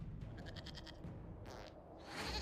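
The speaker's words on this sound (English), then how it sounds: "we discovered this man attacking the building with a goat." A goat in Dragon Age: Inquisition gives a short run of bleats, fairly close, followed by a brief noisy burst and rising rumble over a busy game soundscape.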